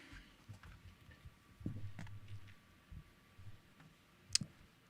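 A computer keyboard gives faint, scattered clicks and taps in an irregular rhythm, with one sharper click near the end, in a quiet room.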